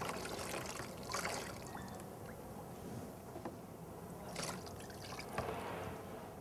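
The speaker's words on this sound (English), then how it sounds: "Under running water, we have to wash it." Tap water runs steadily while blood-stained lumbar puncture instruments are scrubbed and rinsed for sterilization, a soft continuous trickle with a few brief splashes and clinks, no talking.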